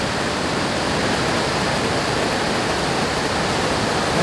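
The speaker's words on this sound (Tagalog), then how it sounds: "Ang lakas ng tubig." Strong rushing water at Timoga Springs, a dense, constant roar of flowing water close by that fills the whole clip evenly with no pauses.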